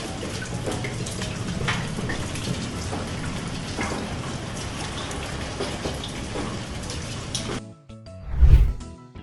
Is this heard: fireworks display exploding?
no